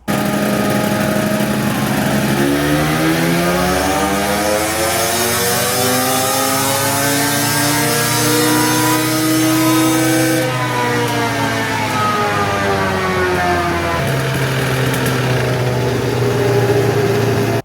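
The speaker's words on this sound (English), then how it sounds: "I was running this thing at 1/4 throttle, and I put this thing on and ran it at 1/4 throttle, and the dyno did this." A motorcycle engine runs on a dyno at quarter throttle, a loud steady drone whose pitch rises and then settles, continuous and close throughout.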